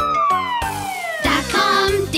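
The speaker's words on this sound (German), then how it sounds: "Die Sirene hat einen lauten Klang." Fire engine siren from an animated children's song, a loud wailing tone that sweeps downward and then repeats in rising and falling cycles over a backing beat.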